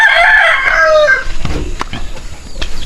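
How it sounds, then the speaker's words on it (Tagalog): A young Pakistani Asil rooster crows once, a loud, close, ragged call that fades after about a second, followed by faint background clucks and rustling outdoors. "yung stag natin na Pakistani Asil, papakita ko na rin sa inyo"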